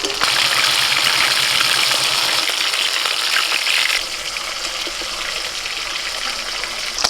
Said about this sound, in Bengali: মাছগুলোকে একটু লাল লাল করে ভেজে তুলে নিচ্ছি।